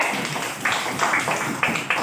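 A classroom group clapping for a student, irregular bursts of hand claps rising and falling over a noisy room, fairly close and loud.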